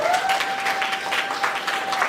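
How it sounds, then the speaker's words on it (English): Audience at a girls' education competition event in Ghana applauding a team, a dense continuous round of clapping with a steady tone running underneath. "a round of applause for them"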